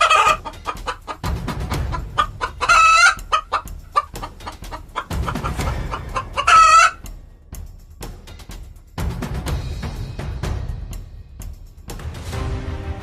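Cartoon chickens cluck in quick repeated bursts, with a rooster crow mixed in. The sounds are loud and close, separated by short gaps and a low background hum.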